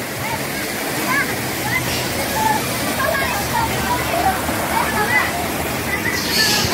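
A river at the Ledok Sambi tourist village in Pakem, Sleman, Yogyakarta, where children play in the water, rushes and sloshes loudly and continuously, with voices mixed into the steady flow.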